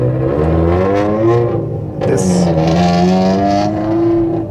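A fast car's engine revs and accelerates nearby, its pitch rising and falling in a loud, continuous whine with a brief dip midway.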